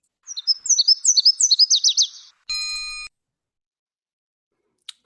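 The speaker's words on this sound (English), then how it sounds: "one of the 3 warblers that'll be in your homework that sound like a car starting" A warbler sings a rapid series of rising chirps that run together like a car engine trying to start, loud and close, followed by a brief electronic beep tone.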